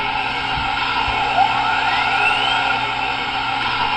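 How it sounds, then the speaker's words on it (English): An MTH Challenger model locomotive started up by app, producing a steady loud hum with a rising whistle-like tone sweeping upward partway through, continuous and close. "As you can hear, the engine has come to life."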